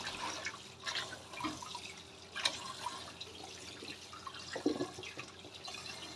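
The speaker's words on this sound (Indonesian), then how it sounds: "cuci berkali-kali ya sampai benar-benar bersih" Wood ear mushrooms are washed repeatedly in water, giving faint splashing, trickling and scattered drips close by in a quiet room, with no voices.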